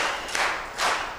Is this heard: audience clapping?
yes